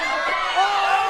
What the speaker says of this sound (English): you can hear everyone cheering her on